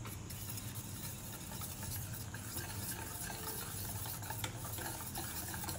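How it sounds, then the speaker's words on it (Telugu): Punugulu batter made with sour yogurt is worked smoothly by hand to break up small lumps, giving a steady, continuous wet squelching and stirring texture with no talking. "తర్వాత మళ్ళీ చిన్న చిన్న గడ్డలు ఏం లేకుండా నీట్ గా కలిపేసుకోవాలి"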